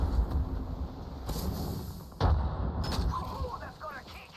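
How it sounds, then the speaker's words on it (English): A grenade in Apex Legends goes off as a heavy, booming blast among rumbling game noise, followed by another sharp burst a moment later, with a voice talking partway through. "Look out! Grenade!"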